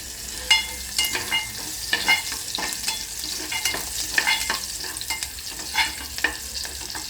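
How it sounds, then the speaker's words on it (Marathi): Onion fries in a pan and is stirred, a steady sizzle broken by repeated scraping clinks of the utensil. Close and continuous, with no talking. "कांदा पूर्ण आपण भाजून घेत आहे"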